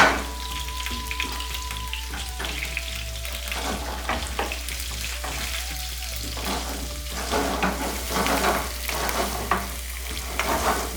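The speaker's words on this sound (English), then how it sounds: "this is one onion, chopped onion. So I have to fry it" Chopped onion and cumin seeds fry in about four tablespoons of hot oil for chicken bhuna, with a steady close sizzle and occasional stirring scrapes throughout.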